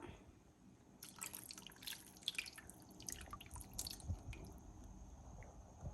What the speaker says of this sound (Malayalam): നമുക്ക് ഈ വെള്ളം ഇതിലേക്ക് ഇങ്ങനെ ഒഴിച്ചു കൊടുക്കാം